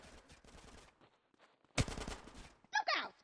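Bursts of suppressing gunfire in GTA San Andreas – The Definitive Edition, with a sharp loud volley in the middle and further shots near the end, mixed with game speech and effects.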